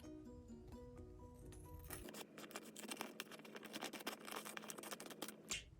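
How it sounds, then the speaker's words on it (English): Scissors snip through paper sheets while making a DIY pocket page for an A5 mini binder, giving a quick run of crisp, close cutting crunches and scrapes after a short stretch of soft background music. "for my demonstration I'm just going to be using scissors"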